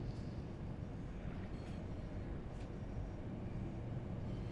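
A Class 700 Desiro City electric train runs in Train Sim World 3, giving a steady, continuous low rumble with a faint high hiss that holds at an even level throughout, with no voices.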